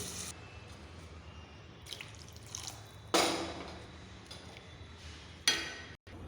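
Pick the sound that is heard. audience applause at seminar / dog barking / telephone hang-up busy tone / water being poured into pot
water being poured into pot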